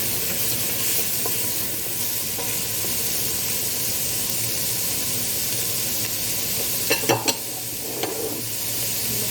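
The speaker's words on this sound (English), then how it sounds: "The onions have been cooking for about 3 minutes, sizzling away." Onions and red peppers sizzle steadily in a frying pan with a constant hiss, and a few brief clinks and scrapes of stirring come near the end.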